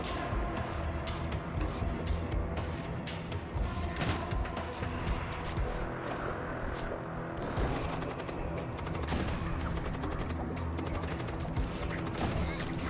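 Displacement bombs firing from a warship in the space combat game Void War, heard as a dense, continuous barrage of booming blasts and crackling impacts layered over a loud rumbling bed.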